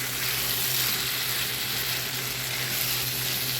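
Green chillies and olives sizzle loudly in a fried tomato spice mix for a small fish curry, a steady, close frying hiss with faint stirring underneath.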